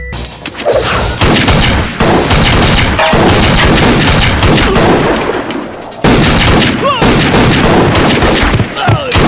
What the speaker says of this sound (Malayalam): ആരാണ് അങ്ങോട്ടും ഇങ്ങോട്ടും വെടിവെച്ചത്?